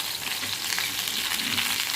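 Water lily fritters sizzle and crackle steadily in hot oil, a constant close frying hiss with no talking.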